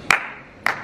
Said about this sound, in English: When I clap my hands 3 times